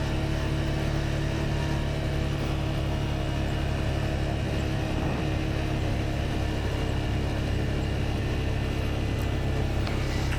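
A CFMoto Cforce 520 ATV rolls slowly along in Norway, its engine a steady, close, unbroken drone that holds constant throughout with no voices.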